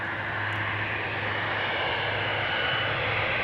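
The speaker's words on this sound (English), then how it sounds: "Right now, entering the runway is KLM flight 751. It is a 777-200 going to Quito." A KLM Boeing 777-200 moves onto the runway at Amsterdam Schiphol with a loud, steady engine roar and a broad rushing hiss that holds throughout.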